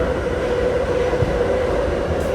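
Continuous loud rumble of a passenger train running on rails, seen from inside a car, with a steady roar and faint rattling and no pause.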